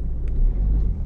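A car reverses at low speed during a driving lesson at the Rosny exam centre, its engine a close, steady low rumble that fills the short moment without talk.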